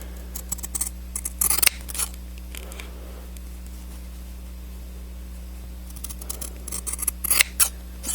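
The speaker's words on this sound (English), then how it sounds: "Let me cut them and I'll show you the size of these strips." Scissors snip through fabric to make inch-wide wick strips for a fogger build, with quick bursts of cutting near the start and again toward the end, separated by a quiet stretch with a steady low hum underneath.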